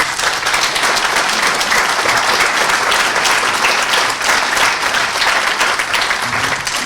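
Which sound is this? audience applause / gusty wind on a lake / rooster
audience applause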